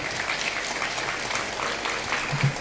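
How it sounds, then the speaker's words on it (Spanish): Clapping from a church congregation during a sermon, a moderate, continuous patter of hands that carries evenly throughout without voices on top. "Si usted puede aplaudir, aplauda."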